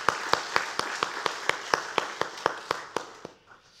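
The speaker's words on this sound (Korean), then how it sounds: "우리 박수로 한 번 더 격려해 줬으면 좋겠습니다" A church congregation at a Sunday daytime service claps in a steady, even rhythm, about a dozen crisp beats in unison that soften and trail off at the end.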